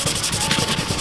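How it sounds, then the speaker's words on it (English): Close, steady back-and-forth rasp of hand sanding on a Nissan 350Z body panel being prepped for Rust-Oleum paint, with rhythmic strokes repeating continuously. "they've been sanding all day"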